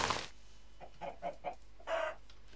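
Chickens in a video game cluck softly, a short quiet burst followed by a few spaced single clucks and a longer final call, with no talk.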